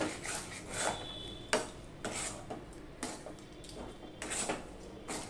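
A spoon scrapes and stirs a thick papaya dhoka mixture in a pan, steady rhythmic rasping strokes with occasional metallic knocks, close and quiet with no talking.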